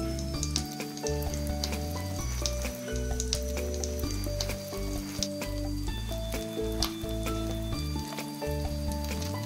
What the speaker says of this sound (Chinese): 将做的生坯一次放进电饼铛里烙熟